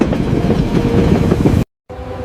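A train rumbles along the rails with rhythmic clatter, loud and close, broken by a brief moment of silence near the end.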